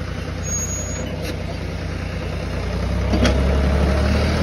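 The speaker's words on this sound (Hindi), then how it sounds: "भाई साहब फोर्ड ट्रैक्टर को चलाने के लिए हाथों में बहुत जोर चाहिए पड़ता है।" A Ford tractor engine runs at a steady, loud, low throb, growing slightly heavier toward the end, with no talk over it.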